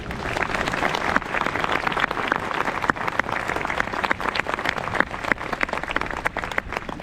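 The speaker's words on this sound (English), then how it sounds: "Join me in a round of applause" Steady, dense applause from a large crowd, sustained throughout with no pauses and no one speaking over it.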